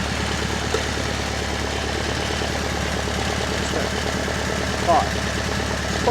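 Twin-carburetor Alfa Spider engine idling a little high after the carburetors are synchronized: a steady, even mid-pitched purr with a faint pulsing rhythm, close and continuous, with a brief small clatter near the end.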